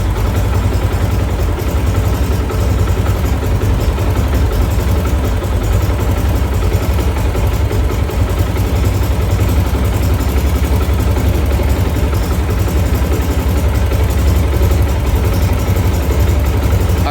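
Steady, loud engine drone from a Yamaha YBR125 motorcycle during carburetor mixture tuning, running close and continuous as the revs build, with no talking.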